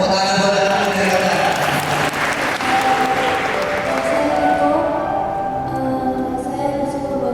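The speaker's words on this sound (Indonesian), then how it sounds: "tepuk tangan buat anak dari kita" Sustained audience applause fills a live community event hall, steady and dense from start to finish, with voices mixed into the crowd noise.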